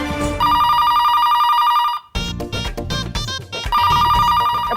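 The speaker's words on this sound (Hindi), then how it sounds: "फोन क्यों नहीं उठाता कोई?" A telephone rings loudly in repeated electronic bursts, interrupted midway by a short stretch of music-like sound before the ringing resumes.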